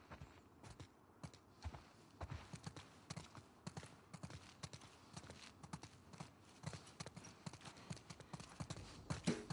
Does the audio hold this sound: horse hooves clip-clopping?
yes